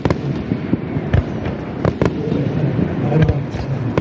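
Fireworks at the 2019 Akigawa river-area summer festival burst overhead, a run of sharp booms and crackles spaced unevenly, loud and close against a murmuring night crowd.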